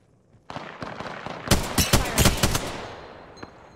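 Gunfire in the game Apex Legends: after a quiet start, a burst of rapid, sharp, loud shots rattles off in quick succession, then fades into a short echoing tail.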